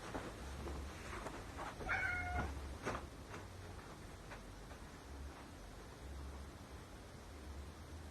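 A house cat lets out a short, faint meow once against a steady hiss of background noise, with a low hum pulsing underneath and no voices.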